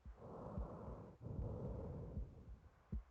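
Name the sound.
deep breathing and heartbeat in Silent Hill 2 video game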